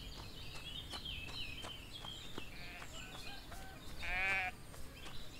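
Sheep bleat in the farming video game Everdream Valley, a faint wavering call rising near the end above a soft bed of ambient game sounds and light clicks.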